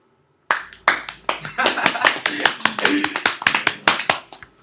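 Small audience clapping after a student presentation, a brief round of distinct, uneven hand claps close by, tapering off at the end.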